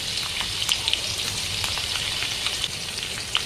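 Finely chopped garlic and chili frying in hot oil in a kadhai, a dense, even crackling sizzle with scattered sharp pops and spits, close and continuous.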